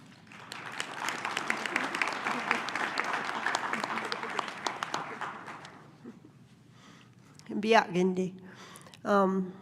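Audience applause in a lecture hall welcoming two speakers to a talk on an Indigenous demonstration garden project; steady, dense clapping for about six seconds, then fading as a voice begins speaking.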